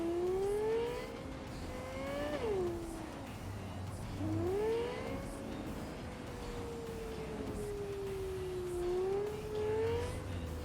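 Car driven in the video game Cyberpunk 2077, a steady engine hum rising and falling in pitch with acceleration and gear shifts, continuous and moderately loud with no talk.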